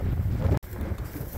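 Gusty wind buffets the microphone with a low, rumbling roar, broken by a split-second dropout.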